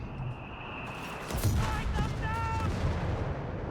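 An artillery barrage in Company of Heroes 3, a steady rumble of distant shell impacts and gunfire under a commentator's voice, with louder booms from about halfway.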